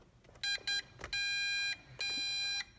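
A drone transmitter for an MJX Bugs 3H quadcopter beeps as it binds, giving two short high beeps and then two longer tones with a small click between them, clear against a quiet room.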